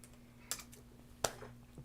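Keys tapped on a computer keyboard while typing a search, a few sparse clicks spaced apart, close and quiet over a faint hum with no talk.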